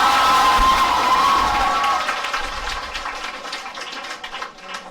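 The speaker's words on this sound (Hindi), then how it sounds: "जोरदार ताली और स्वागत करो बेटे।" A crowd cheers and claps loudly at a celebration of JEE-Main exam success on a school campus. The noise is dense and steady at first, then fades somewhat toward the end.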